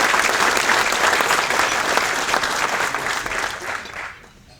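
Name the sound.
audience applause at golf hall of fame event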